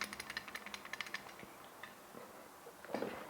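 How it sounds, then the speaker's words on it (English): Umarex Glock 17 Gen5 CO2 airsoft pistol slide cycling close to the mic, a quick run of sharp, light metallic ticks followed by a few scattered clacks and a slightly louder knock near the end. "This is the sound of the Glock 17."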